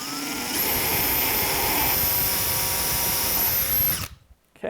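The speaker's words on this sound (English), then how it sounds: "I'm going to drill through the center of the hole" A power drill bores through tape into a bumper hole, giving a loud, steady, high-pitched whine that holds for about three and a half seconds and then cuts off abruptly.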